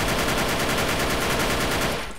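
Rapid automatic gunfire from a video game shooter, a dense continuous burst of shots for about two seconds that cuts off abruptly, loud and close with no voices.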